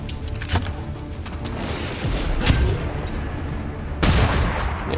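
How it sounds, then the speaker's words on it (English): Flashbang blast in XCOM 2 Long War mod, heard as a dense rumbling burst of explosive noise with a sharp loud crack near the end over a steady low battle ambience. "That explosion should take care of him"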